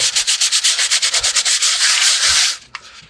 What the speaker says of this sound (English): Let me do a little sanding here real quick.